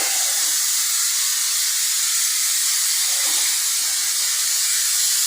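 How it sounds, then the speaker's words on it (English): Headliner-style spray adhesive being applied to carpet inside a truck camper: a continuous, steady hiss from the spray nozzle, close and loud, unbroken for several seconds with no talking. "I'm used to headliner spray adhesive where it comes out a lot thicker"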